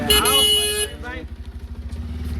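A motorcycle engine putters past close by, its steady rumbling pulses continuing after a burst of loud, tonal noise at the start.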